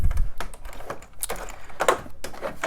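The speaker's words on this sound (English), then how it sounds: "So it has a little clicky keyboard," Irregular key clicks from the small clicky keyboard of an old Commodore SX64 portable computer, bought secondhand, with a fairly close, crisp series of taps and no talking.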